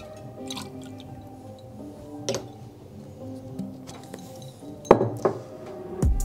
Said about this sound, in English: Give that another little stir with the spoon.